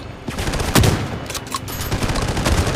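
Rapid shotgun and automatic gunfire in the video game Bloodstrike sounds loud and close, with dense overlapping bursts and a heavier blast near the start.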